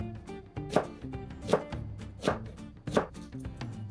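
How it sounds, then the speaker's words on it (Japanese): A knife chopping vegetables for Korean kimchi stew on a cutting board, four sharp distinct strikes evenly spaced about three-quarters of a second apart, close and clear with a faint low hum beneath and no talking. "まず野菜をカットしていく。"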